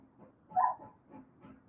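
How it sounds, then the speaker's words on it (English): A neighbor's dog barks faintly in the distance, one clearer bark followed by a couple of softer yips, with quiet gaps between them. "sounds of dogs barking"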